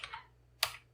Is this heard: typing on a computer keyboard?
yes